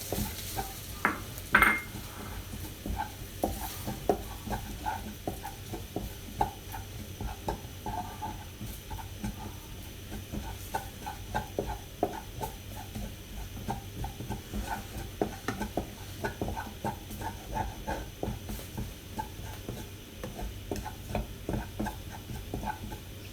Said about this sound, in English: Now I'm going to add the besan, the chickpea flour. You have to let the besan roast for a while.